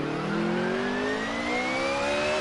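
Car engine in the racing sim Assetto Corsa, driven with a manual shifter: a steady, loud whine that rises smoothly in pitch as it revs up through a gear, with no talk over it.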